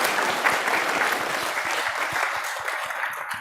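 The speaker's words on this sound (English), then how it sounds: "Big welcoming applause." Applause from a church congregation at a Sunday service, dense steady clapping from many hands sustained throughout without speech.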